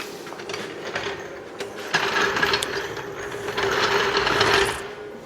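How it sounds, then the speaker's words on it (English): A floor jack is set and pumped under the rear end of an old Jaguar XJ6 with a turbo LS swap, giving steady ratcheting mechanical clicks and rattles up close with no talking. "we're gonna put the jack on the rear end here"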